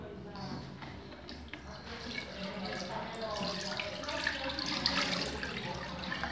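Tap water runs steadily into a sink as someone washes her face, a continuous splashing hiss that swells slightly toward the end, with a voice talking briefly underneath.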